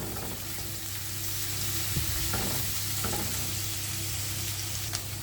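Onion sizzles steadily in hot ghee for a mushroom ghee roast, a continuous frying hiss with a few soft stirring scrapes and taps. It runs close and moderately loud, with no voice over it.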